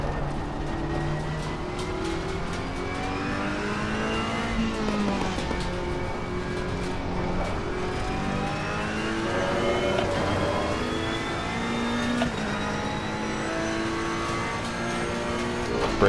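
A GT race car in Assetto Corsa Competizione runs continuously around the track, its engine droning steadily and its pitch rising and falling with throttle and braking through corners.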